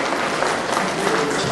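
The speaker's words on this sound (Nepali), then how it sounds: "हामी तालीले उहाँलाई सम्मान पनि गरौँ" Audience applause at a Nepali award and honour ceremony, steady dense clapping from a crowd throughout, fairly loud and continuous.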